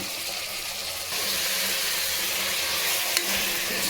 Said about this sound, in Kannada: ಈಗ ಇದೊಂದು ನಿಮಿಷ ಫ್ರೈ ಮಾಡ್ಕೊಳ್ಳೋಣ ಮಶ್ರೂಮ್ನ